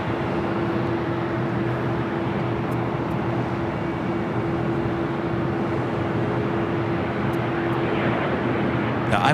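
Jet airliner at Los Angeles LAX, heard as a continuous distant engine roar with a steady low tone, sustained at even loudness throughout.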